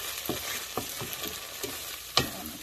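Spice paste frying in a small amount of oil in a pan, stirred steadily: a run of close scraping strokes over a constant sizzle, ending in one sharper clack.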